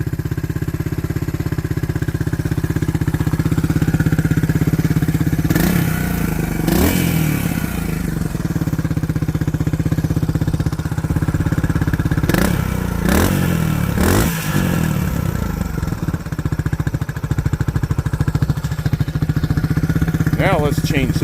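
A Suzuki DR200 motorcycle with stock exhaust runs steadily nearby, rising in several quick revs, with a few clattering sounds over the rumble.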